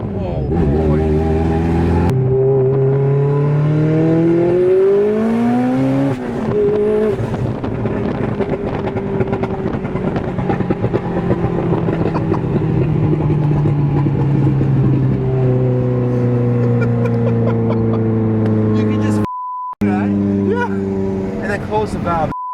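A Mitsubishi Evo with its exhaust valves open revs hard and loud, its engine note rising and falling in long sweeps with a brief cut near the end before it roars again.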